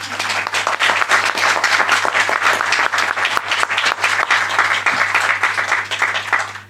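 An audience at an inauguration event for a development dialogue gives a round of applause, many hands clapping densely and loudly close by, sustained for several seconds with a low steady hum underneath.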